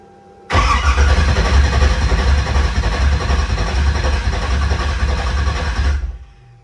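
An LS V8 swapped into a Nissan 240SX drift car cranks on its starter in one continuous, loud, churning burst of about five and a half seconds, without catching, then cuts off.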